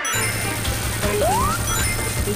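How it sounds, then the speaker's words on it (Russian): Boxes shatter in the Sonic CD special stage, a video game, with a crunchy smash over steady game music and a rising electronic sweep, loud and continuous. "а нужно разбить вот эти ящики"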